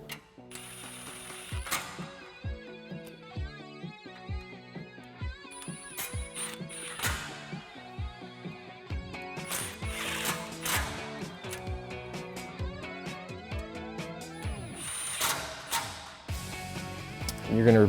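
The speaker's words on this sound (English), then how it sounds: "Now we're going to take our 4mm Allen socket with our cordless and tighten these down." Cordless drill with a 4mm Allen socket driving bolts on a Barricade HD stubby front bumper for a 2016-2022 Toyota Tacoma, heard as a close, whirring ratcheting drive in short bursts, with someone talking over parts of it.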